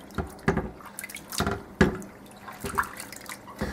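Menudo tripe being scrubbed by hand in a sink of cloudy water: close splashes and wet sloshing pulses in an irregular rhythm, fairly quiet.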